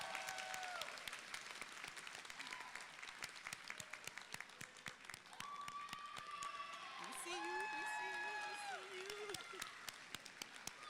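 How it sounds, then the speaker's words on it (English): Warm applause from the crowd at a graduation ceremony, sustained clapping with cheers and voices rising over it partway through, lasting about ten seconds. "please give a warm round of applause to Ms."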